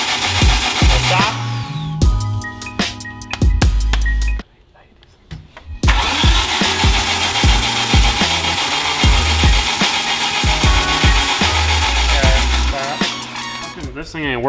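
A mid-engine Mitsubishi Eclipse engine cranks over repeatedly with a chattering starter whir and mechanical clatter, loud and close. It stops briefly near the middle, then resumes cranking with voices talking around it.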